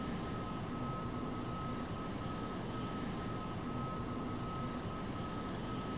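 A jet fighter's engine in a Vietnam-era combat flight simulator drones as a steady, even roar through a carrier landing approach, with a constant tonal whine running on top, and no voices present.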